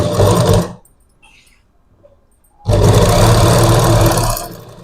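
A sewing machine stitches piping onto a blouse neck, loud steady whirring runs up close, stopping for a quiet pause of about two seconds and then resuming at full speed.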